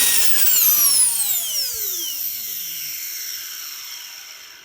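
A tiny homemade turbocharger spins up to very high RPM, a loud rising whine with several harmonics climbing steeply in pitch, then holding a piercing high tone as it tapers off slightly, with no talking.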